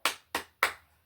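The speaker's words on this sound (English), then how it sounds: "give you a round of applause" Three sharp hand claps in quick succession, close and loud, each with a short decay and nothing else around them.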